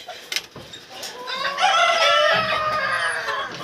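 Chickens cluck close by, then a rooster lets out a long, loud crow that carries on for a couple of seconds.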